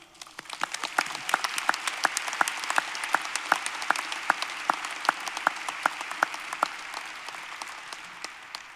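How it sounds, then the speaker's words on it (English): A graduation ceremony audience breaks into a sustained round of applause, a dense wash of many clapping hands with crisp near claps punctuating it, fading slightly toward the end. "Please join me in a round of applause to show our gratitude."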